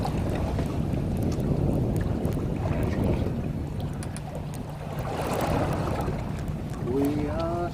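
A charter fishing boat motors across Luce Bay, a steady rushing of hull through water and wind buffeting the microphone, with a low engine hum underneath and a brief chirp near the end.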